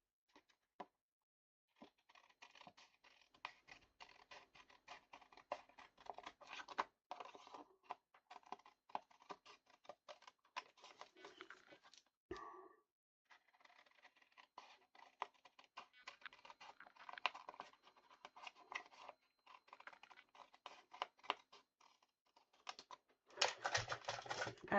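Scissors trim scrapbook paper for a beach-themed page, giving quiet, close, irregular snips and crisp clicks scattered over about twenty-five seconds with short pauses between bursts.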